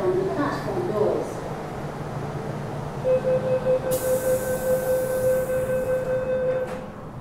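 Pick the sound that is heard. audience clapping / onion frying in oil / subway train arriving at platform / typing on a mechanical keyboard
subway train arriving at platform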